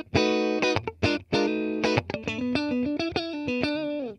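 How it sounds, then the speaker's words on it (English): Electric guitar played through an amplifier's clean channel, for a beginner starter pack: a run of separately plucked, ringing notes and short chords, close and fairly loud, with no voices. "That's what would be described traditionally as like a clean sound from a guitar."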